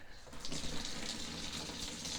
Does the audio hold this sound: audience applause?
no